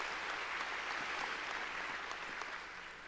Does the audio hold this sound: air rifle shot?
no